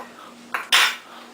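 A spoon scoops cornstarch into a cup while making Swiss fondue, a brief soft scrape followed by a louder clink of metal against the cup, all within about a second.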